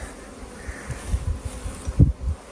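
Honey bees hum softly around an open, healthy beehive, a low and faint buzz with a few closer swells as individual bees pass near.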